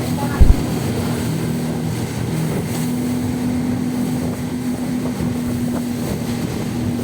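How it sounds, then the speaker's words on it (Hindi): A speedboat races across open water toward Malé in the Maldives, its engine roaring steadily over heavy wind buffeting and rushing water, with one sharp thump near the start. "आप देख सकते हैं कि स्पीड बोट वाकई में काफ़ी स्पीडी चलती है।"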